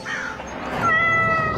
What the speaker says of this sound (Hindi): तभी एक बिल्ली का छोटा सा बच्चा उनके सामने आ गया